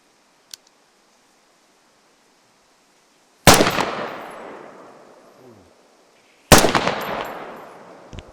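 Two loud, sharp reports from a high-caliber designated marksman rifle in the Squad video game, a few seconds apart, each trailing off in a long echoing decay, with a faint click before them.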